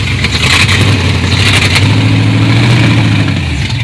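Car engine revving through a true dual exhaust conversion, a loud steady rumble with rising and falling throttle blips, close by and alone without talk.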